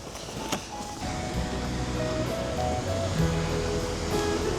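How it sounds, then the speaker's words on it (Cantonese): Godafoss waterfall in Iceland roars as a loud, continuous, broadband rush of falling water, steady throughout with no voices. "真係眾神瀑布，夠晒澎湃，好有霸氣。"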